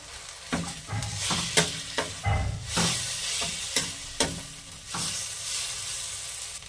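Coriander powder, chilli powder, turmeric and chopped green chilli sauté in a pan for egg curry, a close crackling sizzle cut by repeated spatula scrapes and clanks against the pan, with no talk.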